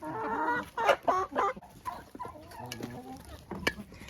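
Hens kept at a dacha cluck and squawk in a few short, close bursts, with quieter clucking in between and a sharp call near the end.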